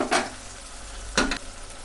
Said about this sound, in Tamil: நம்ம இப்போ கறி போட்டுக்கலாம்.